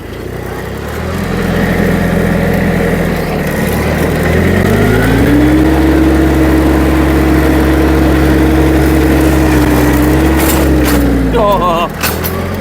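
A Hinomoto CX16 tractor from Kubota, an older Japanese machine, has its engine running close by, steady and loud, revving up partway through with a sustained droning tone before easing off.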